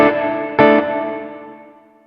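Electric guitar chord played through an Alabs Cetus reverb pedal in a wet-only, kill-dry setting, struck twice and left to ring into a long, smooth decaying reverb tail.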